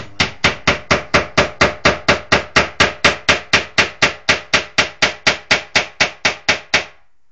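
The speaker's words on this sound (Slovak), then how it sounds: "to je kladivo" A hammer bangs in a fast, even rhythm inside an apartment block while dismantling furniture, about thirty-five sharp strikes in a row, loud and close, then stops.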